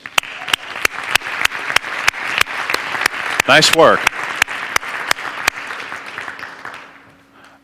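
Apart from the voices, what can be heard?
audience applause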